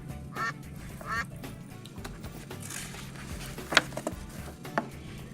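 Duck quacking in short, nasal bursts, a couple of clear calls near the start and more later, close and moderately loud over faint background tapping and patter.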